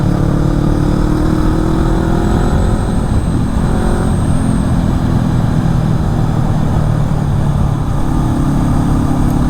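Motorcycle cruising on a dry road toward Gérardmer, its engine droning steadily and loudly with wind rush throughout and no talking.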